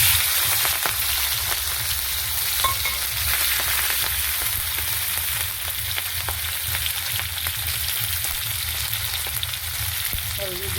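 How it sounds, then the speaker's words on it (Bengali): Prawns fry in mustard oil in a hot pan, a loud, continuous sizzling crackle with scattered sharp pops throughout. "চিংড়ি মাছটা ভেজে নেব"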